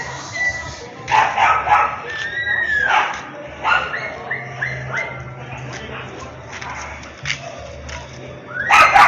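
A dog barks and yips excitedly while playing with a ball on a residential street, short bursts scattered through the clip over background noise.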